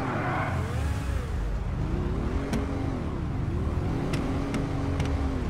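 A car engine in GTA V Online runs loud and continuously, with its pitch repeatedly sweeping up and back down as it revs. Several brief high clicks sound near the end, and there is no talk.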